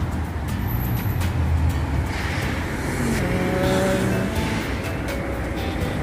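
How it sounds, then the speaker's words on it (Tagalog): Continuous road traffic roars steadily, with engines humming and vehicles passing close by, loud and unbroken with no voices. "Kaya doble-dobling ingay ng mga sasakyan."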